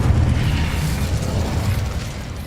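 A fiery spell blast bursts in Hogwarts Legacy, a loud sustained whooshing roar with crackling rumble that fills the space and holds steady before easing slightly.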